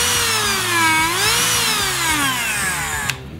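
A cordless, battery-operated Dremel variable-speed rotary tool runs steadily and close up, its high whine sliding up and down in pitch as the speed changes, then cuts off abruptly near the end.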